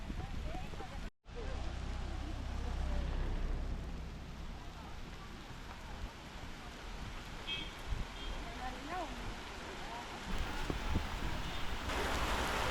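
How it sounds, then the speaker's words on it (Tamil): A heavy downpour drums steadily near a shop at Alagar Kovil temple in Madurai, a dense, wide hiss of rain that swells slightly toward the end, with a voice speaking beneath it. "மழை வந்து சரியான மழைங்க"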